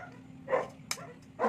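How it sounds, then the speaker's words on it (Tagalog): Dogs barking in a Filipino home kitchen during cucumber salad preparation, a few short sharp barks spaced apart at moderate distance, heard alone. "Ang ingay yung mga aso."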